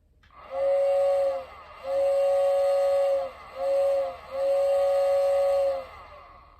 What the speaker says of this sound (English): It's got a whistle.